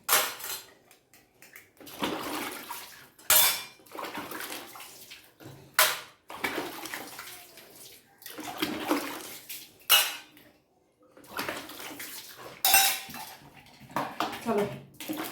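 A basket of brass and metal puja utensils washed by hand with water, with bursts of splashing and rinsing alternating with clanks and clinks of vessels knocking together, close and uneven.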